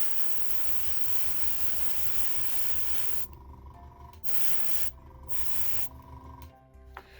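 An airbrush sprays paint onto a model in a steady, faint hiss that cuts out several times in short breaks, close and without talk.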